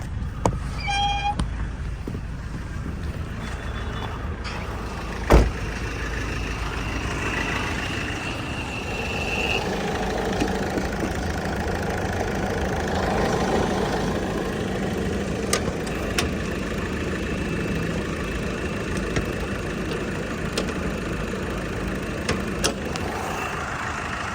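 A 2013 Mahindra Scorpio VLX diesel engine idles throughout, a low continuous rumble with a few sharp clicks and knocks, close by and fairly loud.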